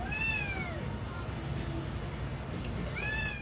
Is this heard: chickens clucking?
no